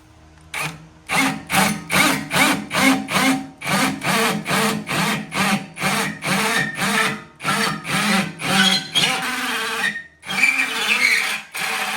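A power drill bores into a Harley-Davidson M8 motorcycle exhaust in a quick run of short, loud bursts, revving and stopping repeatedly close by, with no talking.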